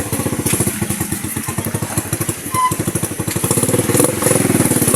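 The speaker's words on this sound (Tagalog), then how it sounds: "Yan si Judith nakasakay sa isang motor." Motorcycle engine running steadily while riding on a tall bike at night heading home, a rapid pulsing rumble that holds close and loud throughout, swelling slightly near the end.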